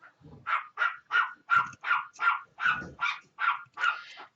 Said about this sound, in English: they have my dogs barking